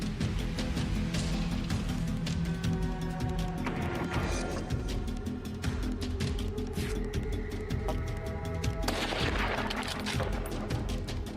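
Rifle fire during a wild boar hunt against invasive wild hogs: loud, dense bursts of shots and bangs crowding one another continuously, with sharp cracks piling up over a heavy, rumbling backdrop.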